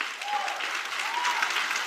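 Hands clap together in a sustained crowd applause at a church gathering, a continuous mid-level patter of many people clapping that stays steady for the short stretch.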